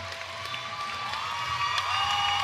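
A crowd cheering and applauding at a women's heavyweight Brazilian jiu-jitsu match as time runs out, a sustained roar that swells toward the end with a faint tonal whistle over it.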